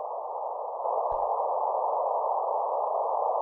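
A steady, clean electronic CW Morse audio tone from a ham radio rig holds unbroken for a few seconds, with no keying gaps, a brief click partway through.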